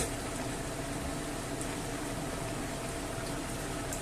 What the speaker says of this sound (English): it's been boiling for 5 minutes